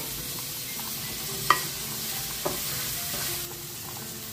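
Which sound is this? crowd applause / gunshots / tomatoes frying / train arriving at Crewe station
tomatoes frying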